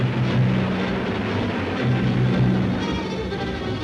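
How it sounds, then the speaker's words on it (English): British warplanes flying toward Egypt during the 1956 bombing raids, a steady, loud engine drone that holds without a break in an old newsreel recording. "Britain's warplanes are winging their way to Egypt, and its bombers attack 5 key cities"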